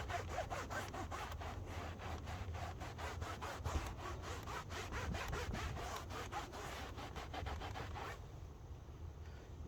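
A cloth wipes Turtle Wax Ceramic + Graphene Inside Job interior detailer across a surface: close, steady back-and-forth rubbing strokes in a quick regular rhythm that stop near the end, leaving quiet.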